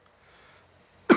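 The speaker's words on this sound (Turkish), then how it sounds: "Fazla derin nefes alırsanız öksürürsünüz." A single sharp cough right after a deep, audible inhale from a person with COVID, the quiet breathing building up before one abrupt, close, loud cough at the end.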